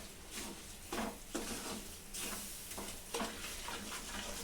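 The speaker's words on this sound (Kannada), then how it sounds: "ಇಷ್ಟು ಎಲ್ಲ ಒಟ್ಟಿಗೆ ಹಾಕಿ ಮಿಕ್ಸ್ ಮಾಡ್ಕೋಬೇಕು ಚೆನ್ನಾಗಿ." Ghee and a thick sweet mixture are stirred together in a pot for a burfi, giving a steady soft scraping and squelching texture with a few sharper strokes, close and continuous, with no voices.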